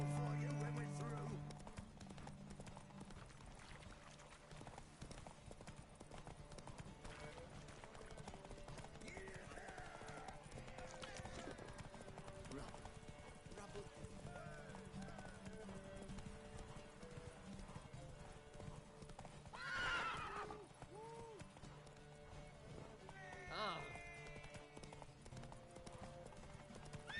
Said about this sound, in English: Mount up! Run, Roach. Faster, Ranger, faster